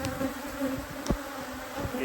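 Defensive, agitated honeybees buzzing around an open hive, a dense close-up drone with sharp pitch changes as individual bees zip past the microphone.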